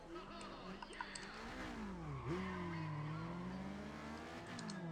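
A drag car in NFS ProStreet does a burnout, its engine revving and droning at high pitch while the tone rises and dips, with a sustained tire-squeal texture over it, heard alone and fairly quiet.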